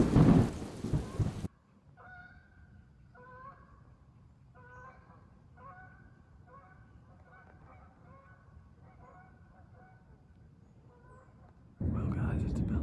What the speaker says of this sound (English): it's starting to rain and it's starting to lightning